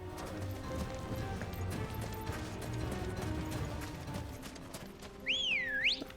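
In the Final Fantasy XVI video game, horse hooves clip-clop steadily on hard ground at a moderate pace, with faint background ambience. A rising and falling whistle-like tone sounds near the end.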